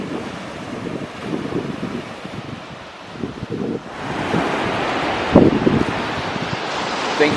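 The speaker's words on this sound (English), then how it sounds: "Figured we'd go walk on the beach where we first met for her birthday. Having a great time, just enjoying the breeze" Ocean surf washes onto a beach in a steady broadband rush, swelling louder midway with a crashing wave, while a breeze buffets the microphone throughout; no voices.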